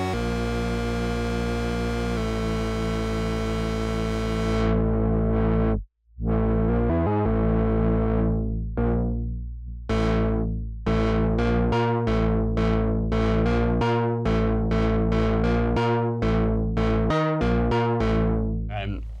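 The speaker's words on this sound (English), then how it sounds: "so now we've got a 5 oscillator sound" A thick, buzzy five-oscillator sound from a Moog Matriarch analog synthesizer, with distorted, detuned layers, sustaining and then chopped into rapid rhythmic stabs, loud and continuous.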